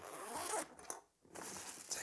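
Zipper on the front pouch of a Razer Concourse Pro backpack pulled open in two quick raspy strokes with a short pause between, close and fairly quiet, no talking.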